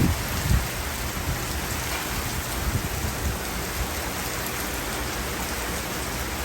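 Heavy rain pours steadily in Orlando with a broad roaring hiss, sideways gusty wind buffeting close by and a few louder bursts near the start.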